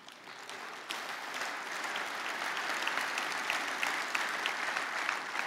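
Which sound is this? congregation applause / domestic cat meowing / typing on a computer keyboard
congregation applause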